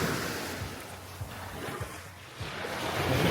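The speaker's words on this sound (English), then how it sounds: "Walking down the beach here on Kojium" Steady soft wash of surf on a quiet beach on Koh Jum island, Thailand, heard up close with a light wind rumble and some muffled footsteps while walking.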